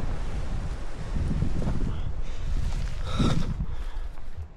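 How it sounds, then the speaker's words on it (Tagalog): Strong, cold wind roars steadily on a mountain trail, a loud, broad rush that never lets up and swells briefly now and then, with no voices. "Grabe lakas ng hangin."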